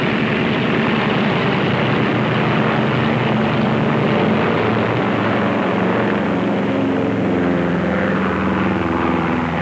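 Steady, loud propeller airplane engine drone in flight aboard a 1930s plane, a continuous broadband roar with low throbbing hum that stays constant throughout with no talk.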